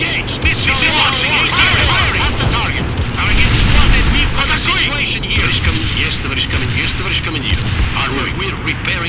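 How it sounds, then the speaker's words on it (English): Missile launches and gunfire from a World in Conflict: Soviet Assault battle, with dense booming artillery-like blasts, rapid shots and aircraft roar layered over game voices giving orders. "Missile launching."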